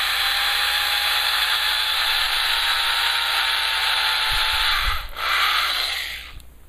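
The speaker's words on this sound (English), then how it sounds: "Make two pilot holes." A power drill bores two pilot holes for a Nemo 200 underwater video camera housing, a steady loud whir running continuously for several seconds before briefly dipping and then winding down at the end.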